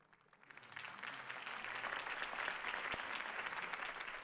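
Crowd applause at a political campaign rally in Batman: The Telltale Series, a dense sustained clapping that swells in after a quiet start and holds steady at moderate distance.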